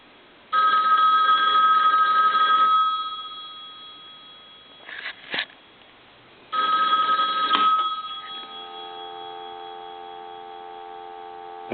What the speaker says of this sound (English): I'm going to go ahead and ring this telephone.